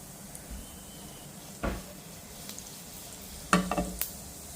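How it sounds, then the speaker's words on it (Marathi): Cumin, ajwain and coarsely crushed fennel seeds sizzle softly in hot oil, a low steady crackle broken by a couple of brief louder bursts as the seeds hit the pan; no talking. "तेल थोडंसं गरम झालं की आपल्याला जिरे टाकायचे आहेत थोडंसं परतून घेऊया आणि ओवा आणि बडीसोप आहे भरड केलेली आहे ती पण टाकून घेऊ"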